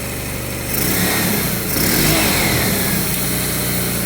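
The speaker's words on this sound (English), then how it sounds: "there's the choke on now. But it's actually running way better now that I have the choke held open." A 1990 Town Car engine runs rough with the choke held open, a steady close mechanical drone that swells slightly partway through, in cold snowy weather, with no talking.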